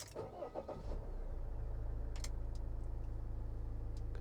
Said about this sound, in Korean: 시동을 걸게 되면